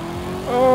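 A Chevrolet Corvette Z06 revs hard off the line in a Forza Horizon 5 drag race, its engine note rising steadily in pitch and loudness over under a second, with no voices over it.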